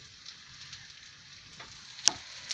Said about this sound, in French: Je vais déglacer, regardez bien, écoutez le bruit, ça chante